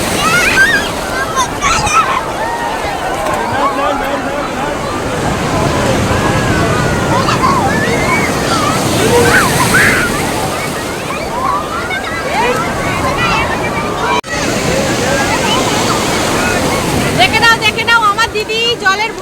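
Sea waves break and slosh on Swargadwar beach in Puri where people are bathing, a loud continuous churning surf mixed with nearby voices and shouts throughout.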